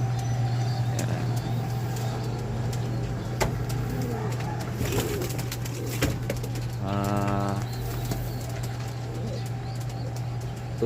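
Racing pigeons cooing inside their loft, soft repeated coos over a steady background hum, with a brief faint rhythmic burst partway through and faint distant voices.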